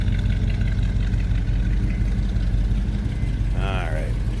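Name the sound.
1956 Buick Special Riviera nailhead V8 engine rumbling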